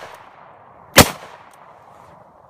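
A single sharp gunshot from a .38 Special firing Federal HydraShok +P ammunition cracks loud and close, then trails off into quiet with no talking.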